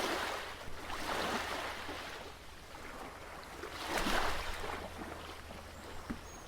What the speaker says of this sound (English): So just the waves, the seagulls in the background.